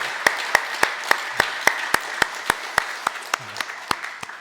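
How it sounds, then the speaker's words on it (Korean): A Korean church congregation at a Sunday Advent service claps in unison, sharp, evenly spaced beats about three or four per second, a steady rhythmic clapping with a faint murmur of voices beneath. "우리 다시 한번 하나님께 영광의 박수 올려드리겠습니다."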